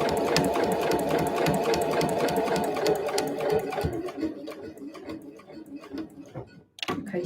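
A sewing machine runs fast, stitching an overlapping seam on an eco bag, with a close, rapid needle chatter that slows and stops, followed by a brief clunk.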